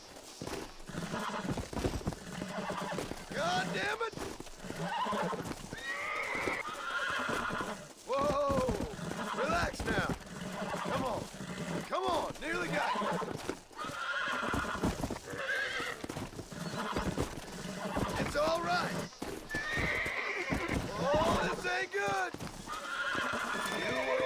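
Horse whinnies and clip-clopping hooves in the Western video game Red Dead Redemption, repeated neighs rising over steady hoofbeats, with someone talking over much of it.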